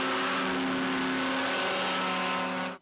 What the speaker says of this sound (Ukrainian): Першим до постраждалого мчить поліцейський катер на повітряній подушці.